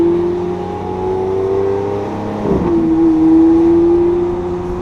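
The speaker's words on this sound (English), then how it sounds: "and Courtney be driving crazy, but like this is how you drive the Aventador" A Lamborghini Aventador is driven with its engine droning steadily close by, rising in pitch and then shifting briefly before settling back into a sustained, loud hum.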